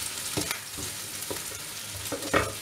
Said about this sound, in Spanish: Y ahora echamos las zanahorias, que tome el gusto también de la cebolla,